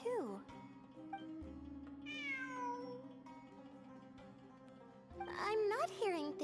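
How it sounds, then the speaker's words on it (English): A cat in the game Genshin Impact meows several times, with rising and falling cries, the loudest near the end, over a soft steady musical drone. "I'm not hearing things. It really is a cat."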